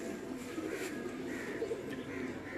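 Pigeons from a Lahore fancier's crossbred flock coo steadily in a low, continuous murmur that fills the whole stretch at moderate volume, with no voices over it.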